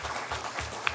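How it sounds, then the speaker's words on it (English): A crowd at a county commission meeting gives a brief burst of applause, with dense, even clapping that holds steady through the short moment. "I'll give her a round of applause."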